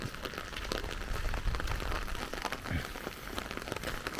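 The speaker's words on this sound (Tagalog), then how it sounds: "sobrang ulan na nagaganyan na yung gilid ng daan" Heavy rain in Abu Dhabi falls steadily onto a roadside where water is pooling, a dense, continuous patter and splash that stays broad and even with no voices.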